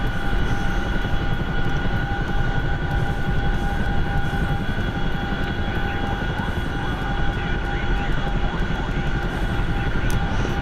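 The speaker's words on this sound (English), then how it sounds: "I'm gonna run a Chinook up to Therathar and tier it up and drop off some supplies" A Chinook helicopter flying a supply run in a combat flight video game, a continuous loud rotor-and-turbine drone with steady humming tones, heard alone without talk.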